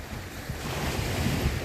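Waves crash loudly during a blizzard, a dense continuous roar of surf mixed with heavy wind buffeting the microphone, close and unbroken.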